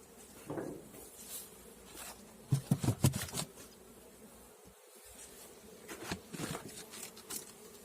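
A small, weak honeybee colony occupying only a few frames on a spring day, with a soft steady buzz of bees and brief louder passes as individuals fly near, plus a few faint handling clicks.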